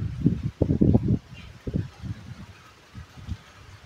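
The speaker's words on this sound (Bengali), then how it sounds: "আর হাওয়াতে দাঁড়াতেই পারছি না।" Strong winds of Cyclone Remal gust through swaying trees, heard as loud, rough buffeting rumbles that come in uneven bursts, heaviest early on and then easing to weaker surges.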